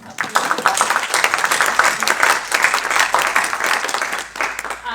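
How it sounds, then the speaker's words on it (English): Audience applause at a 2019 political Question Time event for the Green Party parliamentary candidate for Weaver Vale: dense, lively clapping filling the room throughout, with faint voices underneath. "If we could give him a round of applause"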